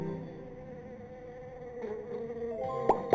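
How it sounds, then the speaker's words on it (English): Bees buzz faintly in a Masha and the Bear kids' game, a soft steady hum with a few brighter tapping blips near the end. "Tap bees to make them away from Masha."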